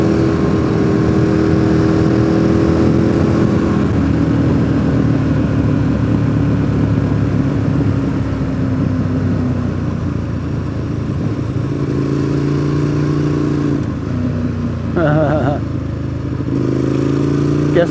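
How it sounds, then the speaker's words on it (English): A Mazda Miata drives past on a road, its engine droning loudly and steadily with shifting pitch against continuous road noise, under people talking. "Guessing that was an off-roading Miata."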